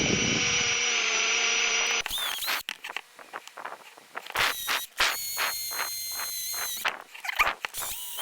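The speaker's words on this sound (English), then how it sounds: "you end up drilling a hole on a bit of an angle" A power drill bores a hole into a small 1/64 die-cast Hot Wheels emergency truck. Steady high whine for two seconds, then several short stop-start bursts of drilling with squealing pitch changes, close and loud.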